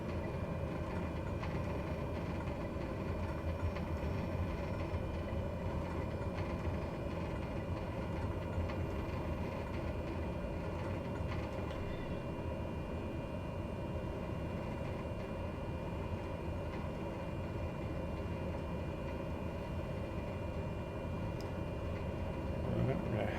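Propeller engines idling at low power while an aircraft taxis in Microsoft Flight Simulator 2020, a steady low droning rumble throughout, unchanging and moderately loud.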